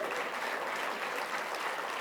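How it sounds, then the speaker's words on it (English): Audience applause at a college presentation, a steady wash of many hands clapping at moderate level throughout, with no talking over it. "oh, you can clap for that."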